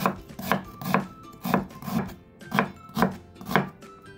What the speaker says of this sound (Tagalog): Ating sibuyas na ating hiwain din.